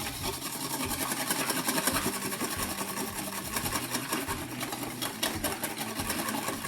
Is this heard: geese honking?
no